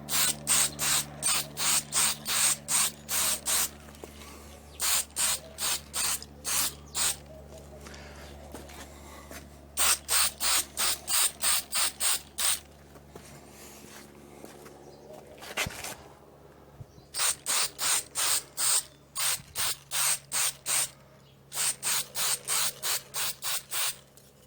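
Repeated bursts of aerosol spray paint applying the first top coat to a lamp being restored, coming in rhythmic clusters of short hisses with pauses between, close and fairly loud over a low steady hum.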